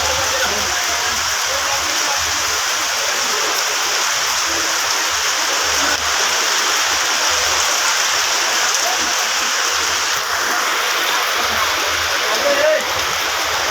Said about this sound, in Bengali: বৃষ্টি হচ্ছে ব্যাপক।